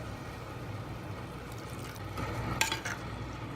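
Carrot halwa with milk being stirred in a clay pot, a quiet low simmer with a few soft scraping and clinking strokes of the spoon near the end.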